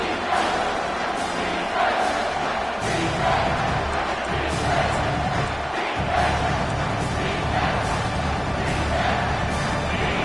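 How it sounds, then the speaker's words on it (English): A loud, dense football stadium crowd at a Michigan State–Missouri game roars and cheers continuously, swelling in waves with shouts rising out of the mass of noise. "the crowd coming to life here"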